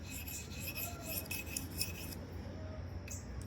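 A WE Swordfin knife edge drawn across a CBN abrasive plate during sharpening, giving a steady close-up gritty rasping scrape that runs continuously for a few seconds with no talking.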